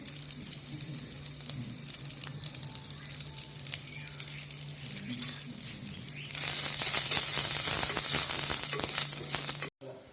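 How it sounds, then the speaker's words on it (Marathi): Onion frying in oil in a clay pot until browned, giving a continuous close sizzle that grows much louder and denser partway through before cutting off abruptly near the end, with no talking. "तुम्ही पाहू शकता कांदा आता ब्राऊन रंगावरती छान झाला आहे"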